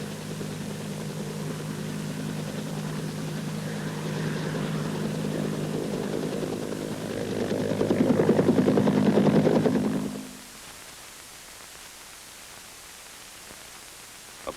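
Helicopter at a 1969 Army Pathfinder School exercise, a steady mechanical rotor and engine drone under static that swells louder around the eighth to tenth second, then cuts away to quieter hiss.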